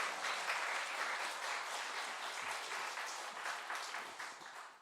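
A church congregation applauds to welcome a pastor at a dawn revival service. The applause is a dense, continuous patter of many hands that stays fairly even, then tapers slightly toward the end.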